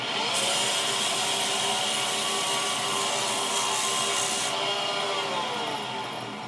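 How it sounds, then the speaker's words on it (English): A wooden wig stand spinning on a lathe while 100-grit sandpaper rubs against it, giving a steady, loud abrasive hiss over the motor's hum that eases off near the end. "So let's give that a sand."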